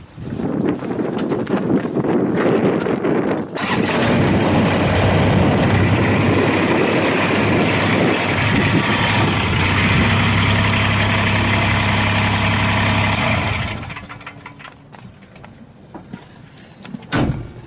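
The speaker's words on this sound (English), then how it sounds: "unit is powered by a Kubota D902 three-cylinder diesel engine. Starts and runs great." A Kubota D902 three-cylinder diesel engine on a 2016 RTV-X900 UTV cranks, fires and settles into a loud, steady idle close by, then cuts off and leaves faint knocks.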